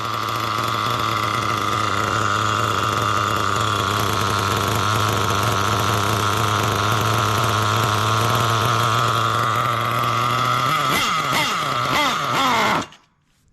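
Small nitro engine idling steadily and loud while its carburetor is tuned, a buzzing drone that wavers and revs briefly before cutting off abruptly near the end.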